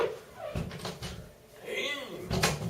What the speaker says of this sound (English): I will close this door.